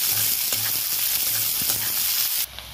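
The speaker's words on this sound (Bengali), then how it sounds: "ওই তেলে এবার লঙ্কা দুটো দিয়ে দেবো, দিয়ে ভালো করে নেড়ে চেড়ে ভেজে নেব।" Chillies, onion and garlic frying in hot oil in a Bengali home kitchen, a steady close sizzle and crackle with faint stirring scrapes, no voices.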